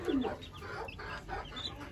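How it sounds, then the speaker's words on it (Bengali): Aseel chickens, hens and chicks, cluck in short soft bursts close by on a rain-damp farmyard, with a steady background hiss and no talk. "এই হচ্ছে আসিল মুরগির বাচ্চা, আর এই হচ্ছে আসিল মুরগি,"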